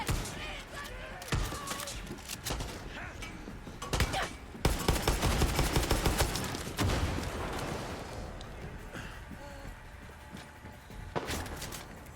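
Mortar blasts and gunfire in the video game Far Cry 6: repeated booming impacts and dense crackling bursts of shots fill the scene, with louder volleys near the middle and a voice talking at times.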